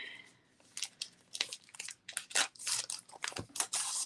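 Crinkly plastic packaging of a stamping craft kit is handled and torn open up close, with irregular rustles and crunches in quick bursts.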